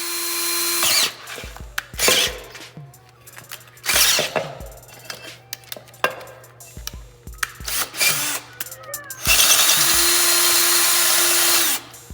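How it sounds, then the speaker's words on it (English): An electric drill whirs in repeated short bursts while redrilling a BMW brake rotor, revving up and stopping, then one longer steady run near the end, loud and close. "I still only have a hand-me-down drill"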